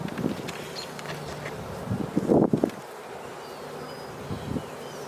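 Honey bees buzz steadily around an opened beehive while it is being split in May, a continuous insect drone with a brief burst of rustling handling noise midway.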